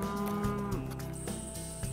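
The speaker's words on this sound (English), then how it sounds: "the cows like us down here." Cattle lowing near a hunting compound in New Zealand, several long drawn-out moos with steady harmonic tones following one another, close and loud, with no talk over them.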